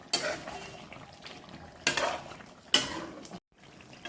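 A spoon scrapes and stirs fried boiled potatoes into chicken stomach curry in a pan, with a few distinct metallic scrapes and clinks against the pan over a faint background sizzle.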